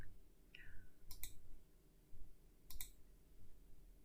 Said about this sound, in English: and then we click Browse